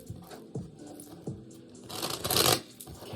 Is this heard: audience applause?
no